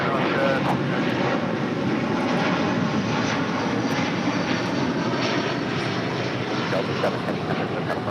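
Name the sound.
Delta Airlines Airbus A330 jet taking off at LAX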